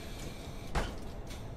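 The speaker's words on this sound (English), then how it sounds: "Close the door." A bus door in Bus Simulator closes with a short pneumatic whoosh and thud, fairly soft, followed by a faint hiss, over low engine rumble.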